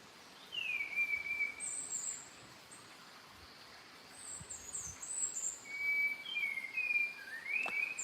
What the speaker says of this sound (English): That's an amazing, amazing song. Spot-wing thrush endemic to Sri Lanka.